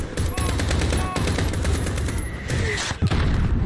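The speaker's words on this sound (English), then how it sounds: "Mortars!" Gunfire and mortar fire in the Modern Warfare (2019) video game: dense, loud bursts of automatic fire and booming impacts rolling almost continuously, close and overlapping, with brief shouts in the mix.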